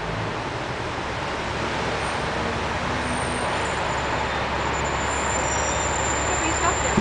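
Tour bus rolling through Sydney city traffic toward Kings Cross, a steady broadband road rumble with engine drone lasting throughout, fairly close and continuous, with faint high whines overhead.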